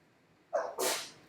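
A single close sneeze, a sharp intake followed by a forceful hissing burst, in an otherwise quiet room.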